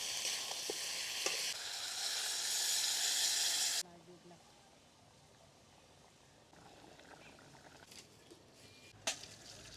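Potatoes frying in hot oil, a loud steady sizzling hiss for a few seconds that suddenly drops away to a much quieter background with faint clicks and a sharp knock near the end.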